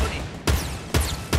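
Three sharp gunfire bursts from the Sonic weapon in Fortnite Battle Royale, evenly spaced about half a second apart over steady background game noise.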